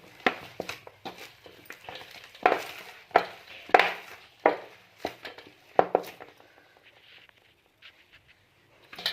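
Hands mixing and pressing urad dal papad dough with garlic and homemade spices, a series of soft rhythmic slaps and thuds up close that thin out toward the end.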